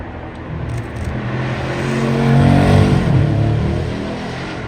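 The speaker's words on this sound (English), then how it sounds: "Bugatti Mistral, surprisingly quiet." A Bugatti Mistral's engine hums and swells as it drives past nearby, rising to a peak and fading slightly, fairly subdued for a sports car.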